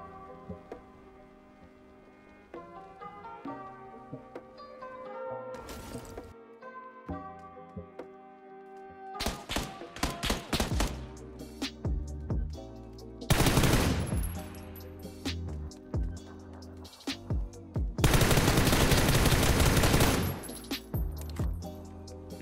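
Bursts of automatic gunfire in the battle royale game PUBG on console, loud rapid volleys repeating over several seconds against a music-like game background, with no talking.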